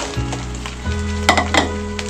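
Kerupuk rambak crackers tipped into boiling coconut milk in a pan give a steady close bubbling sizzle, with a few soft stirring bumps and splashes toward the end.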